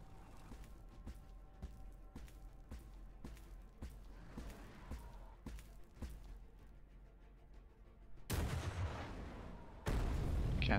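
Gunfire in Warhammer 40000 Battlesector: a steady series of sharp, evenly spaced shots at moderate distance, about one every half second, followed by heavier blasts near the end.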